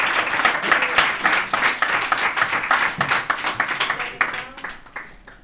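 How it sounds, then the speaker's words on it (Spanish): Audience in a lecture hall bursts into loud, sustained applause welcoming a speaker to a talk on silent cinema, dense clapping that carries through and thins slightly near the end. "vamos a recibirle con un fuerte aplauso"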